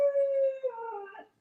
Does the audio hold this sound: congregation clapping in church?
no